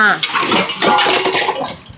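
Pots and vessels clatter and scrape while being washed, with running water splashing and metal knocking in quick, close bursts as someone speaks over the work.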